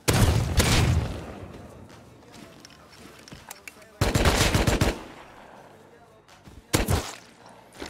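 Loud bursts of automatic rifle fire ring out in the survival video game Rust, three heavy volleys separated by quieter gaps, with players talking over the action.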